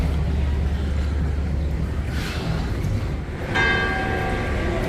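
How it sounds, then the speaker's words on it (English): Church bells ring with a tonal, ringing quality over loud, steady outdoor traffic and wind noise, in a Spanish port town, A Coruña or Vigo. "Church bells are ringing."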